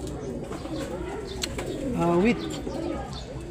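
Racing pigeons coo softly at a loft, one rising, warbling call standing out near the middle over a low background murmur, with a brief spoken word.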